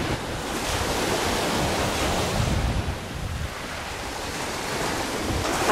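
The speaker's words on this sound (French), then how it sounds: "Il y a un petit peu de vent. Voilà la plage." Surf breaking on a beach in Corsica at Talasani, with wind buffeting the microphone; a steady, loud wash of noise with no voices.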